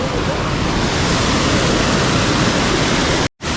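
A river in the Konkan rushes past below after the first rain, a loud, dense wash of flowing water filling the whole stretch without letup, broken by a brief dropout near the end.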